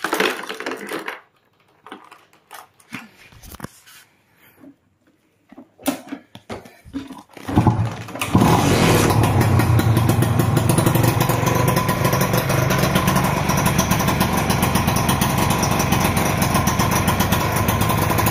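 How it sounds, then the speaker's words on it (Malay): After several clicks and brief attempts, a small two-stroke Modenas Dinamik 120 motorcycle engine with a stock exhaust starts at around eight seconds and keeps running loudly and steadily, raspy and close. "So, kita akan start motor ni,"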